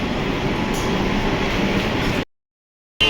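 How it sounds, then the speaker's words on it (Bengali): Kolkata Metro train rumbling steadily at close range, a loud, continuous broadband roar with faint rail clatter. It stops abruptly into silence, then resumes briefly at the end. "তো চলুন আপাতত আমরা ট্রেনে উঠি"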